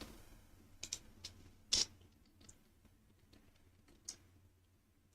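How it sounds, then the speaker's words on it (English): Keys clatter on a computer keyboard in short, irregular bursts, with a few sharper taps standing out against a quiet room. "let me just type this out"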